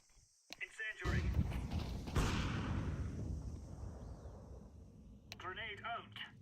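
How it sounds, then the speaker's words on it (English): A smoke grenade and an incendiary thrown in Counter-Strike 2: a brief clatter, then a loud hissing burst that fades into a lingering roar, with short in-game voice callouts at the start and end. "Throwing smoke. Incendiary."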